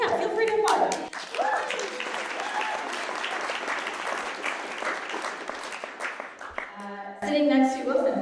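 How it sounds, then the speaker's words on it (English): Audience applause at a book launch event, a dense burst of clapping filling most of the stretch, fading near the end before a voice briefly speaks, then applause swelling again. "feel free to applaud"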